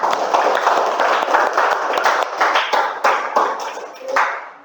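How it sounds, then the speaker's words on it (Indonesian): A classroom of students claps for a presenting group, a brisk, fairly close patter of many hands that holds steady, then tapers and fades out. "tepuk tangan untuk kelompok 1"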